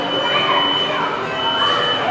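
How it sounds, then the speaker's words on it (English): A store security alarm beeps, a steady high electronic tone held continuously and fairly loud in the background while a person talks over it. "Excuse the beeping, we are open."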